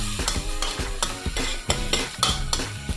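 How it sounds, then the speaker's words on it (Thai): Pounded chili and garlic stir-fried in oil in a wok, loud rhythmic scraping strokes of the spatula over a continuous sizzle, close and alone with no talking. "ผัดพริกกระเทียมนะครับผมที่ตำลงในกระทะกับน้ำมันนะครับ"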